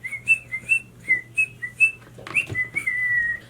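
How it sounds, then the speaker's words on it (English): A person whistles a short melodic tune up close, clear bright notes in quick phrases, ending on a long held tone. "Also, I can whistle."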